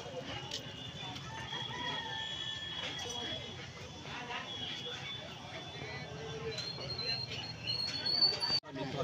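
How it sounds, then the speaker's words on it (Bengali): A native desi rooster at the Uluberia hen market crows amid other fowl, its drawn-out calls rising over the steady murmur of traders talking nearby. "এই দেখুন এখানে অরিজিনাল দেশি মোরগ রয়েছে"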